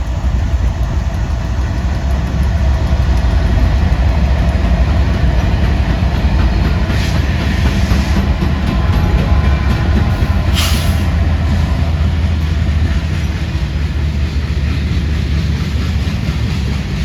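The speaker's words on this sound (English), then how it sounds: "the first train I see at 8 a.m. was the CSX duo running 3 hours late" A CSX freight train led by two locomotives rolls past at close range, with a loud continuous rumble of engines and wheels on rail and steady clatter from the cars throughout.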